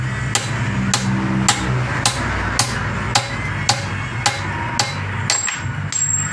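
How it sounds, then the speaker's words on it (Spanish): Hard, dry hammer blows strike a car drivetrain part near its center edge, about a dozen sharp metallic hits at a steady pace, close and loud. "Con golpes duros y secos le pegamos en la orilla del centro."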